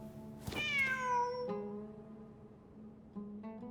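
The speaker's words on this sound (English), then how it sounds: "Wait, there it is! The cat!" A cat in the video game Genshin Impact meows in a long, rising-then-falling call, followed by a second shorter meow near the end, over a faint steady game hum.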